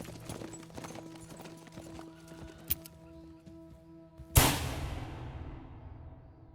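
Horses ridden by an outlaw gang in Red Dead Redemption 2 give soft, scattered hoof clops under a low ambient hum, then a sudden loud whoosh burst near the end that fades out.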